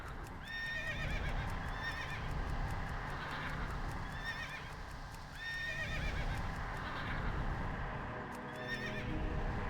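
Repeated loud whinnies from a horse in World of Warcraft, four or five rising and falling neighs spread over several seconds, mixed with steady clip-clop hooves and game ambience. No one speaks.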